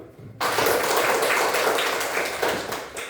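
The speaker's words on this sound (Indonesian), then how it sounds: "Tepuk tangan dulu untuk gula." A classroom of students claps hands, a sudden burst of many hands starting after a quiet moment, then holding as a dense, lively patter at close range that tapers slightly toward the end.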